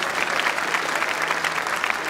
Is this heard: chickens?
no